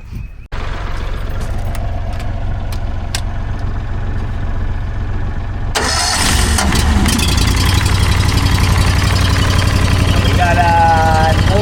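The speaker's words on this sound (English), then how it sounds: "Let it warm up, get the tractor off." A heavy tractor engine cranks and settles into a loud, steady idle while warming up, then its tone rises slightly and keeps running evenly.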